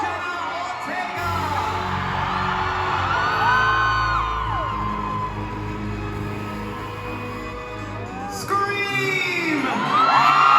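Crowd at the Wednesday season 2 premiere in Sydney cheering, whooping and screaming loudly, with shrill high yells rising over a constant roar.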